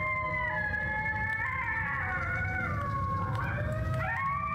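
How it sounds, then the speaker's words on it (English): A long, wavering high-pitched howl with sliding, yipping tones rising and falling over several seconds, heard alone above a low rumbling background. "Man, there's a coyote is going nuts."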